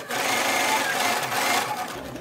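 A sewing machine runs continuously at high speed, a close, steady mechanical whir with rapid needle chatter that slows and stops near the end.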